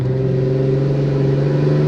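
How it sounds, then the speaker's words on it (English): A 2014 Ram 2500 diesel pickup with deleted emissions and a near-straight-pipe exhaust pulls away with a loud, deep, droning rumble. The exhaust note holds steady throughout the short burst. "It sounds like a freaking semi truck taking off."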